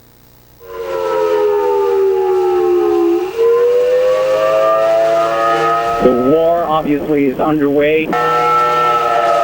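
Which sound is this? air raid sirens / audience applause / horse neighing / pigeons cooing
air raid sirens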